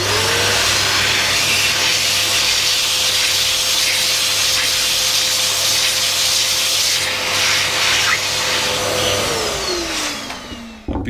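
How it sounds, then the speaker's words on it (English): Shop vacuum drawing dust off a freshly turned oak and walnut pen still mounted on a wood lathe, a steady close whine running nearly the whole time before spinning down near the end. "I'll just usually again go over with the vac, keep my hand off on the work so that the vac doesn't rub on here and mark it all"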